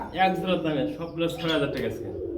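Pigeons coo at a pigeon breeding farm, soft throaty calls repeating close by, mixed in with people talking over them.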